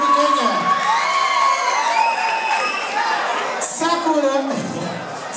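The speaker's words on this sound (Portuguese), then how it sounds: "É o público aplaudindo" A nightclub crowd at a drag comedy show cheers, whoops and applauds loudly and continuously, with shouting voices and laughter layered over the clapping.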